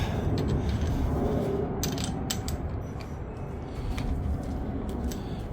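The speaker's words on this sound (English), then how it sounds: "And then tighten the chuck up." The chuck on a drain cleaning machine is tightened by hand over a constant low motor rumble, with bursts of metallic ratcheting clicks and creaks close by.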